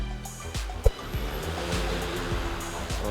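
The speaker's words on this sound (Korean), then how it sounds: "자, 시동 걸고 이륙 합니다." An EFT G1700 agricultural spraying drone starts up and lifts off outdoors, a steady loud broadband roar with a sharp knock near the start, sustained close and continuous throughout.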